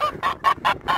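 Geese and ducks at a pond honk close by in a quick series of about five loud, evenly spaced calls, with no talking.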